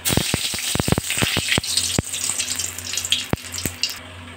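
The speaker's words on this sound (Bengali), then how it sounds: "কালো জিরে শুকনো লঙ্কাটা ভাজা ভাজা হয়ে গেছে" Nigella seeds and dried red chilli frying in hot oil, a dense crackling sizzle with a burst of sharp pops and clatters early on that ease into a steadier fry.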